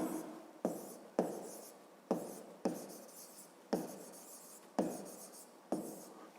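A pen or chalk writing a math expression, a series of short scratchy strokes each opening with a sharp tap, about eight in a steady rhythm, close and quiet.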